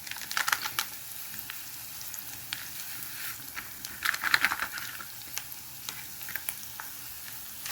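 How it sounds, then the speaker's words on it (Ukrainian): Minced meat frying in a pan as a packet of seasoning is poured in gives a soft, steady sizzle, broken by scattered light scrapes and ticks, with a fuller burst of crackle around the middle. "Фарш у мене вже пожарився, тепер висипаю цю приправку"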